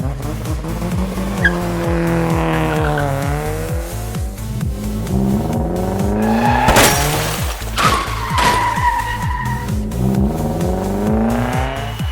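Cartoon race cars speed past in a kids' color-learning race, engines roaring loud and continuous with repeated sharp tire squeals and skids, with no talking.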